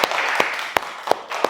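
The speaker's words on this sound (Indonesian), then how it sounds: "Kasih tepuk tangan untuk kalian semua." Scattered hand claps from a small group of students in a classroom at an Islamic boarding-school university, about five distinct bursts in a quick loose rhythm, moderately near with a faint room background.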